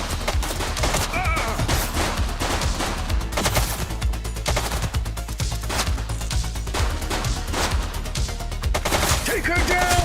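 A suspect fires a gun in the video game The Precinct, with rapid, continuous gunfire and loud, dense shots throughout under a busy game soundscape, with some voices mixed in.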